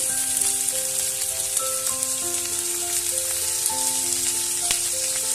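Chopped tomato sizzles loudly in a hot pan on top of ginger and green chili paste as it is stirred, a steady close crackle with scraping and no talking.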